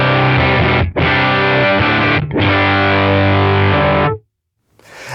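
Electric guitar through a Kemper liquid amp profile with the amp set to 10 rings out as loud, distorted sustained chords, briefly cut twice, then stops abruptly before a faint new onset.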